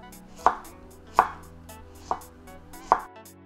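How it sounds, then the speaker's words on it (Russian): Radish is cut into thin strips with a knife on a board: four crisp, evenly spaced chops, close and clear, with quiet pauses between and no talking. "Добавлю немного редиски. Нарезаю ее тонкой соломкой."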